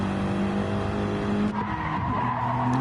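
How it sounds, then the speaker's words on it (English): Tyres squeal continuously as Gran Turismo Gr3 race cars on soft tyres corner at the Nurburgring GP circuit, a sustained whine over droning engine notes that shift pitch partway through, with no voices. "Listen to the big squeal as he's trying to put on extra lock to go around the corner there"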